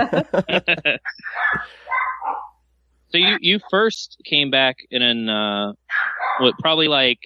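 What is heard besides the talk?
dog barking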